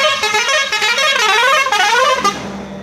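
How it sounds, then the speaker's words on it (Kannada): A vehicle horn blares loudly and close in one sustained honk whose pitch wavers and bends before cutting off sharply near the end. "ಹಿಂಗೆ ಜೋರಾಗಿ ಹಾರ್ನ್ ಮಾಡಿದ್ಯಾ ಅಂತ"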